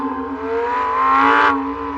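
Car engine revving hard, a close, loud tonal growl that climbs in pitch and then cuts off sharply, followed by a steady idle hum.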